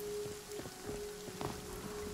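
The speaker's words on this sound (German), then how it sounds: "Aber wir haben uns natürlich jetzt echt eine Ecke ausgesucht, wo es die ganze Zeit regnet." Steady rain falling in the survival game Nightingale, a dense soft patter with scattered louder drops and a faint constant tone underneath, moderate and continuous without speech.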